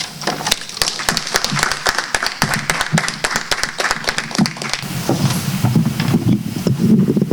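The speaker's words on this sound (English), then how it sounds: "give her another round of applause" An audience at a women's conference applauds after a speech, a brisk crackle of many hands clapping that fades after about five seconds into a low, rumbling wind-like noise.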